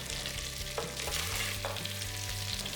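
Two thinly sliced onions sizzle steadily in hot oil in a pot for brinji rice, with a constant bright hiss and a few soft stirring scrapes, no voices.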